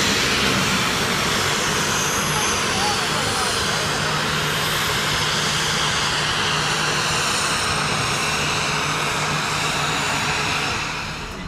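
An airplane landing at Juneau airport makes a steady, loud engine roar that fills the whole stretch and barely fades toward the end, with people talking over it.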